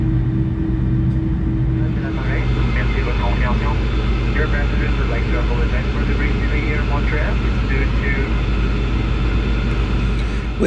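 An Air Inuit Boeing 737-200 jet taxis northbound toward the runway, its engines a loud, steady drone heard from inside, with muffled voices faintly underneath.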